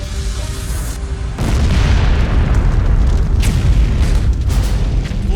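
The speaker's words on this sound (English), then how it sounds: "Flames shoot 400 feet into the air as the chemical tanks ignite" Burning chemical storage tanks failing and exploding in a fire, a deep, loud boom that swells into a sustained roaring rumble with crackling bursts throughout.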